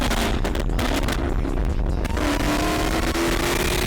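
Flame-tuned Dodge Demon 170 Charger engine roaring loudly nearby, with rapid crackling pops and bangs from the exhaust over a continuous rough revving drone.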